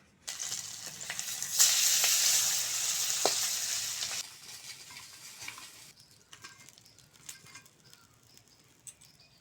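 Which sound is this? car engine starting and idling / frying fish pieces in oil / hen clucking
frying fish pieces in oil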